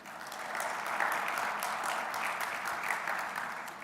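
A conference audience gives a round of applause for a network sponsor: moderately loud, even, continuous clapping from a large room, with no voices over it.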